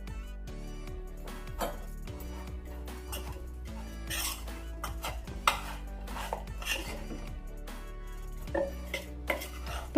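A spoon scrapes and clinks against a bowl as fenugreek and mustard powder get stirred into a mango pickle, with steady close mixing and a few sharper knocks, no voices.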